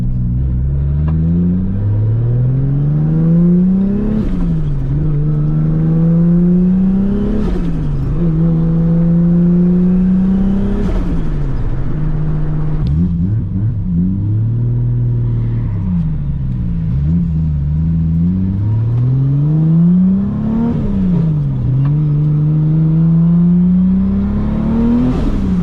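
Toyota 2JZ-GTE VVTi with an eBay GTX35 turbo pulling hard in 4th gear from around 2500 RPM, engine note rising in several repeated surges with brief drops between shifts or lifts, loud and continuous with turbo whir over a deep rumble.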